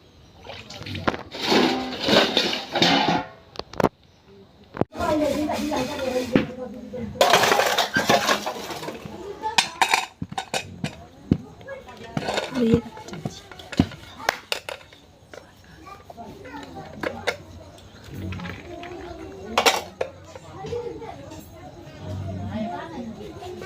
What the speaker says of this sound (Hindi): अब मेरा बर्तन धुल लेती हूँ।